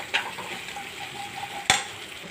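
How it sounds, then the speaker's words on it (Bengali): Spices for a paneer curry, including chilli powder and kasuri methi, are stirred and fried in a pan: a soft steady sizzle with two distinct clinks of a spoon against the pan, and no voices. "নাড়িয়ে কষিয়ে নিয়ে এবার তেল ছেড়ে গেছে"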